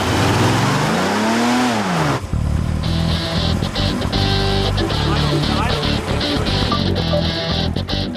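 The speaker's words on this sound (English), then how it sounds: "These V8 engines were originally developed for the Chevrolet and have been specially adapted for use on airboats." A Chevrolet ZZ572 V8 airboat engine rated at 620 horsepower revs up loudly, sweeping in pitch, then settles into a steady, heavy roar that runs continuously throughout.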